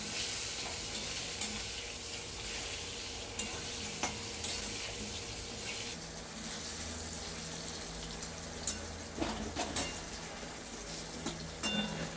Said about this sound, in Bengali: তো আলু বেগুন আমার ভাজা হয়ে গেছে